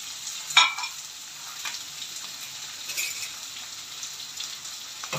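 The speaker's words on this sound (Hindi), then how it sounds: "अब हम इसको फ्राई करें।" Onion, garlic, tomato and spices sizzling and crackling in hot oil, a steady frying hiss with a few sharper pops and stirring scrapes.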